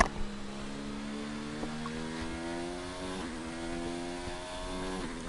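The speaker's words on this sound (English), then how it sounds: "As we listen to the beautiful Mercedes engine." A Mercedes Formula 1 engine in a racing game at the Italian Grand Prix at Monza drones steadily at high revs. It is heard alone, with a few quick gear shifts and short dips in pitch.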